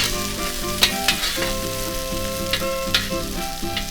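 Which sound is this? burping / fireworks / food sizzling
food sizzling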